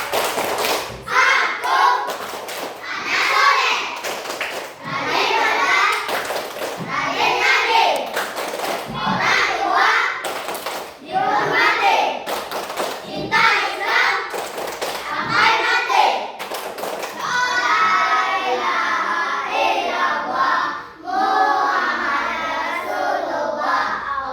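A classroom of Indonesian schoolchildren standing and performing the rhythmic 'tepuk anak soleh' clap chant, sharp clap patterns in repeated bursts mixed with their chanting voices, close and lively.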